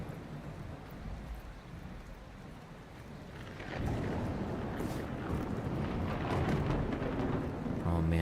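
Rolling thunder in the video game Mount & Blade II: Bannerlord, a low continuous rumble with steady rain-like noise that swells louder about halfway through and keeps rumbling to the end.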